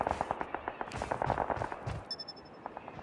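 Rapid gunfire in Call of Duty Mobile rattles out in quick close bursts for about two seconds, then thins to a few scattered shots and a faint electronic tone.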